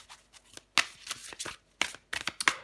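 Tarot cards are shuffled and drawn in a run of crisp, quiet riffles and flicks, close up, in irregular bursts with short pauses between them.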